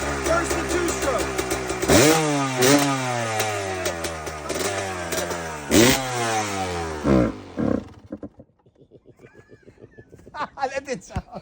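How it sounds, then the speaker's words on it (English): A 2002 Kawasaki KX250 two-stroke dirt bike revs hard several times in cold, snowy weather. Its loud, raspy engine climbs and drops in pitch, then cuts out near the end, leaving quieter scattered sounds. "2002 KX250 two-stroke versus a brand new Stark Varg. First the two-stroke."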